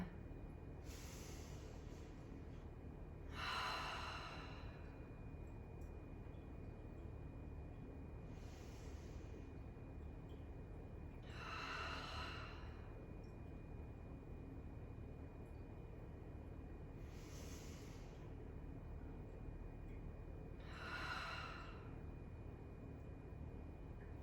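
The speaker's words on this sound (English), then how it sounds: "Take 3 deep breaths here." Deep breathing during seated yoga, three slow breath cycles, each a soft inhale followed by a longer, louder exhale, evenly spaced and close, quiet and without talk.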